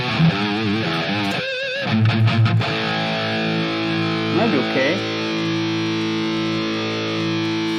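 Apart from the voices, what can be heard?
Line 6 Pod XT guitar amp, Brit 4x12 greenback cab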